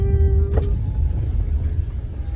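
A car driving along a road toward home, with a steady low engine and road rumble throughout, close and fairly loud, and a brief higher whine near the start.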